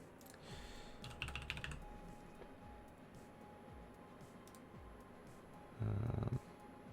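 A password is typed on a computer keyboard in a couple of quick bursts of close key clicks, separated by quiet stretches and a low hum.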